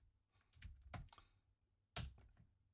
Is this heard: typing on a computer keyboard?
yes